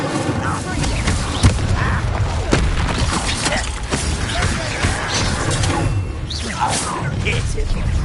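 Incendio fire spell cast in Hogwarts Legacy amid combat, dense crashing and shattering bursts with thuds and booms layered over constant battle noise, while voices talk throughout.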